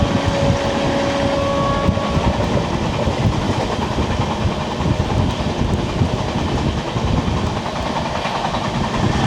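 Araku mountain railway train running at high speed, a loud, continuous rumble with rattling wheels and clattering carriages heard from on board, steady throughout with no talking.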